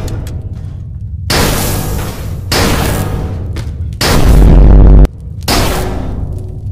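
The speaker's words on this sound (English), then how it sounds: "Machine blaster." A machine blaster in People Playground fires in four loud, sustained bursts, each a dense buzzing roar lasting about a second, separated by short quiet gaps.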